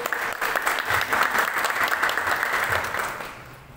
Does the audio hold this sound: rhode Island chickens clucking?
no